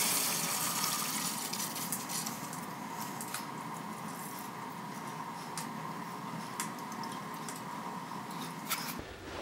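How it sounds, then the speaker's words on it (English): Settled liquid from a Monarch lathe rebuild is poured carefully from one bin into another, making a continuous soft trickle and splash with scattered small clicks and knocks, close by. "So I'm going to carefully pour this into the other one."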